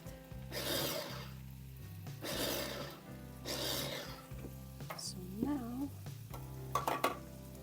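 A creamy gnocchi sauce is stirred into a soft paste, giving bursts of scraping and rubbing strokes in a steady rhythm, close up, with a few light clinks of utensil against the pan and a low hum underneath.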